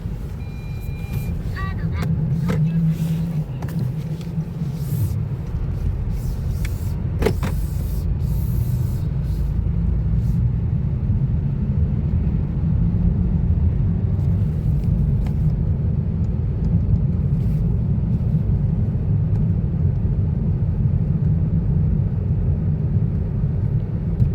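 A Nissan on a test drive after wheel calibration: a steady, loud road rumble and engine drone fill the cabin throughout, with a few brief rattles and clicks early on and no clear talk.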